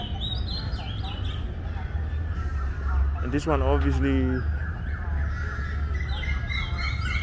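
Crows caw in Lumpini Park, Bangkok, on an early morning walk, with one loud burst of harsh repeated caws in the middle and fainter bird calls around it. Someone talks briefly.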